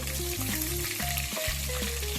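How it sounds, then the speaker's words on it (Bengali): Prawn legs fry in hot oil for a Bengali prawn malai curry, a steady close sizzle with a low bubbling rumble and a few faint clinks from the pan, heard alone. "চিংড়ি মাছের পাগুলো ভেজে নেব"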